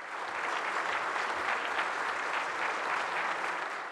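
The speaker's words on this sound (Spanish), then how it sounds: "Con este aplauso recibieron al Papa Francisco en la Universidad de Al-Azhar." A large audience at Al-Azhar University in Cairo applauds in welcome of Pope Francis, a dense, steady wash of many hands clapping together, sustained and even throughout without any speech.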